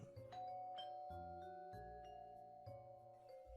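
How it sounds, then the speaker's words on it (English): Quiet doorbell chimes of a small brick cottage ring out in a repeating pattern of bright tonal notes, each ding ringing on and overlapping the next. "the doorbell to your little brick cottage rang."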